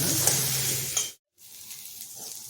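Green chillies being fried continuously in a pan while making pav at home give a steady close sizzle that breaks off into a brief silence, then returns quieter.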